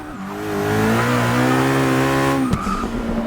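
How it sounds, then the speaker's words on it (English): High-revving supercar engine in the racing game Forza Motorsport 6 climbing in pitch as it accelerates, then a brief shift, with faint tire noise; loud, no voices. "the LaFerrari just sounds a lot more growly, a lot more soulful"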